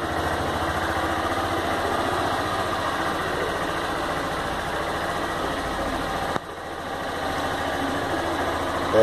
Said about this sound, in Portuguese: Ligar a moto agora sem a chave.